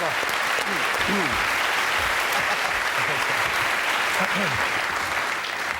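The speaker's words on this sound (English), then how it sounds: "Al Murray, give a round of applause." Studio audience at a British TV comedy panel show breaks into loud, sustained applause that fills the whole stretch, with scattered cheers and voices poking through the dense clapping.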